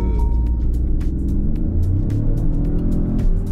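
Steady low engine rumble from inside a 1.2-litre, 136-horsepower hybrid car driving in town, with faint clicks and ticks over the smooth drone.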